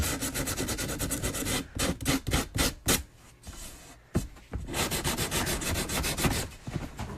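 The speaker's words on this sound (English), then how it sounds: "switch to 80 grit sandpaper just so we don't have to put so much elbow grease into it" Coarse 80-grit sandpaper rubs paint off a cane in quick, rhythmic back-and-forth strokes. The rasping is close and steady, with brief pauses between bursts of scrubbing.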